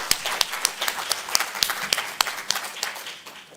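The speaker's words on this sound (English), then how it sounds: "Warm applause." Warm applause from a conference audience at a women's leadership forum, a steady wash of many hands clapping with sharp individual claps standing out, fairly close and fading slightly toward the end, with no talk over it.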